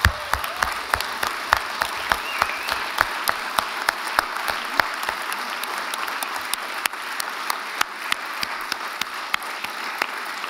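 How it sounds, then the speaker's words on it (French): Audience applause in a hall at a Swiss news-agency journalists' strike gathering, following a speech: steady, fairly distant clapping with sharp individual claps standing out, continuing for about ten seconds. "Je crois que vous avez applaudi juste au moment où elle allait finir."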